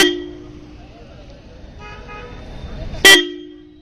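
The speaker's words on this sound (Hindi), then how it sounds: "ब्रांड न्यू ये वाला हॉर्न नया है यार जैसे इसका आवाज़ सुनो" A single short, loud blast from a new horn on an old Royal Enfield Classic 350 motorcycle near the end, after steady engine-like rumble with a sustained tone running throughout.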